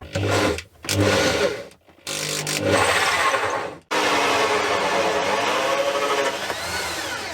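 A power drill with a hole saw grinding through a wooden boat bulkhead in several bursts, starting and stopping, then one long continuous cut; close and loud.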